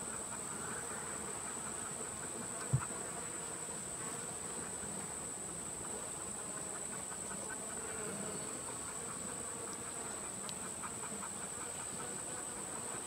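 Honey bees buzz around an open hive, a steady, fairly faint droning hum that holds throughout with a single brief knock early on.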